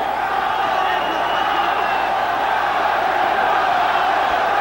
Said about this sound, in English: The crowd again tries to summon up something for Chavez